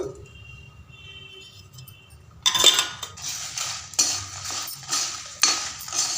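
Cumin seeds and dried red chillies dry roasting in a pan without oil, quiet at first, then scraping and rattling as a spoon stirs the seeds against the metal in repeated clattering strokes.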